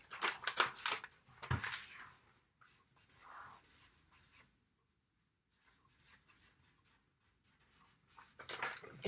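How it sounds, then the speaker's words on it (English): Pen or marker writing on a surface, quiet scratchy strokes in short bursts with a long pause in the middle, close and faint. "let me write this down."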